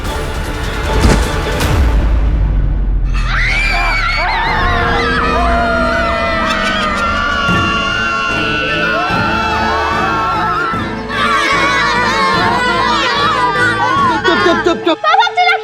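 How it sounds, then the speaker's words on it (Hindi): Loud, busy family scene with several people shrieking and children shouting over one another, voices rising and falling continuously with bursts of yelling and a babble of talk throughout. "अरे तुम लोग क्यों चिल्ला रहे हो?"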